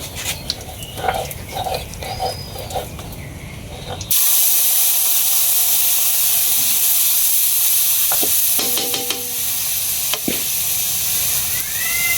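Cumin seeds with turmeric, salt and chili powder fry in hot oil in a home kitchen, a loud steady sizzle after a sudden rise, broken by occasional stirring scrapes and clinks.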